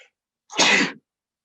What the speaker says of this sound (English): that's how my sneezes sound. I've just sneezed in your ear.